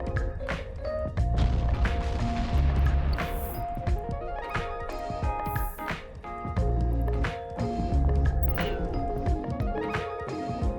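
Explosions and weapon impacts in the space game EVE Online, with ships battling a covert ops frigate: repeated deep booms and crashing hits over a droning, layered game soundtrack, loud and continuous.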